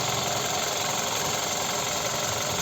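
A 2008 Skoda Roomster Scout 1.6 MPI petrol/gas engine idles steadily up close, a continuous low rumble with a faint rhythmic knock, no voices heard.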